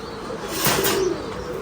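A large pigeon at a pigeon farm gives a brief, soft coo in the middle of a steady background hiss, with no other distinct sounds.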